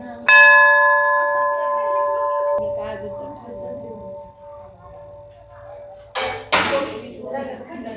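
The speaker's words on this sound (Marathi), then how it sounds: "मोठी घंटा आहे" A large bell at a marble Ganesh temple in Akluj is struck once and rings out loudly with a sustained, slowly fading tone, while a voice talks over it.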